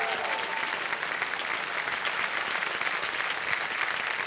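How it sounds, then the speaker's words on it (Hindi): A studio audience on the KBC quiz show applauds a contestant, a steady wash of clapping at moderate volume lasting a few seconds with no talk over it. "तालियां बज जाए इनके लिए।"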